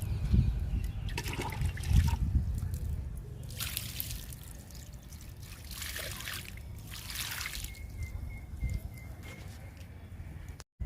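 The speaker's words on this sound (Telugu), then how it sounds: "ఇలా చల్లుతూ ఇవ్వండి వాటరు." Water splashes and trickles in uneven bursts onto freshly sown seeds in a tub of soil mixed with kitchen and garden waste, close by, with faint birdsong in the background and no talking.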